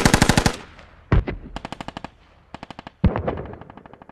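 Automatic gunfire in the video game Squad, rapid bursts of machine-gun shots separated by short pauses, crisp and close with no talking.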